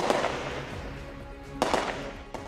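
Gunfire in Khartoum: two or three sharp, loud bangs cracking out at uneven intervals against a steady background rumble, with no voices.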